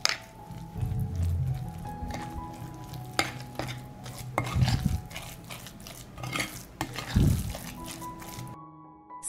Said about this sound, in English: I will add 3 tablespoons of almond flour. I'll mix it all up.